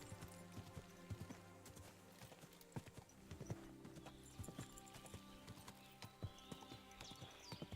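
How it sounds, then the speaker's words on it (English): Horse hooves clip-clop steadily in Kingdom Come: Deliverance 2, a brisk regular rhythm of sharp, close hoof strikes over soft ambient game music, fairly quiet overall. "I have a horse. Like, watch, I have the full option horse there."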